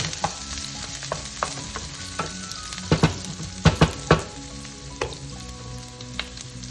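Jackfruit in coconut milk, with chopped garlic, sizzles in a pan while a utensil stirs it, making irregular close knocks and scrapes over a steady bubbling fry.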